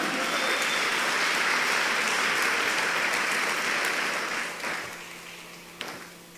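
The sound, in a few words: applause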